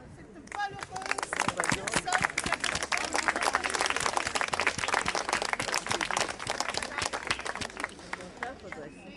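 A crowd gathered outdoors at Tenon Hospital for a medal ceremony honoring staff applauds for about nine seconds with sustained, dense clapping from many hands at an even, moderate loudness, with faint chatter mixed in.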